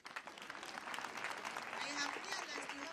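An audience at a girls' high school AGM and thanksgiving service claps for a speaker, steady dense clapping throughout with voices mixed in.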